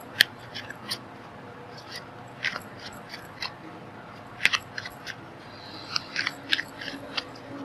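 Tarot cards being shuffled by hand, heard as quick, sharp papery snaps and flicks in irregular bursts over a quiet background.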